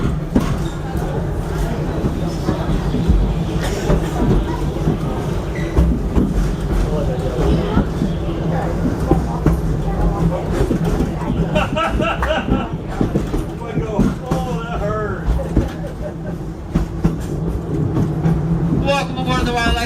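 Wildlife Express train ride at Animal Kingdom, a steady rumble of the moving train car with clacks and squeals, under continuous talk and voices from passengers and a conductor.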